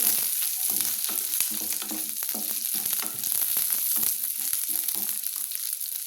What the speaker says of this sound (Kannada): ಈಗ ನೋಡಿ, ಈರುಳ್ಳಿ ಫ್ರೈ ಆಗ್ತಾಯಿದೆ